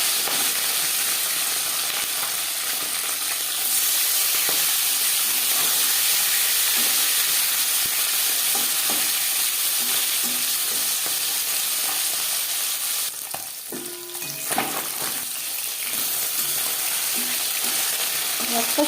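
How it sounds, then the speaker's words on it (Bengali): Marinated tangra fish frying in four spoons of hot refined oil in a pan, a steady loud sizzle and hiss that runs throughout with small crackles and a brief louder stir or splash near the end. "4 চামচ রিফাইন্ড অয়েল গরম করে নেওয়ার পর দিয়ে দেবো ম্যারিনেট করে রাখা মাছ।"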